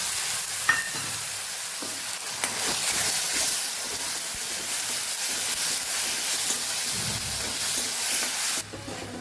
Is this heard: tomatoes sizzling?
yes